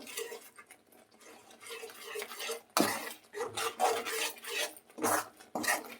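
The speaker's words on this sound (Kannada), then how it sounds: "ಈ ಟೈಮಲ್ಲಿ ಈಗ ಅಕ್ಕಿ ಹಿಟ್ಟು ಹಾಕ್ಕೊಳ್ಬೇಕು" Rice flour scraped and stirred into a jaggery and coconut mixture in a pan for ennarige (rice-flour sajjappa), giving close, uneven rasping and rubbing strokes with a few louder scrapes and no talk.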